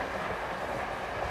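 A train runs steadily along its rails, a continuous rumbling, rushing noise at moderate volume with no voices or distinct clacks.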